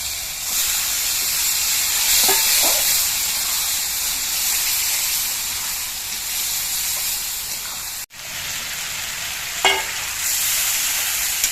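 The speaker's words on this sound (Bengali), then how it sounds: "এবার মাছের তেলগুলো দিয়ে দিচ্ছি।" Fish oil added to a hot pan while frying a Bengali fish-oil curry, giving a loud, steady sizzle and hiss that continues throughout, with a few faint clinks of stirring.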